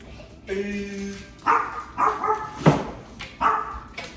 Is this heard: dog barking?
yes